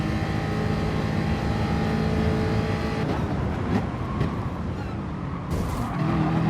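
Race cars roar around Monza in a GT racing video game, engines droning loudly with shifting pitch as a Lamborghini and others brake and jostle into a chicane, tyres briefly squealing.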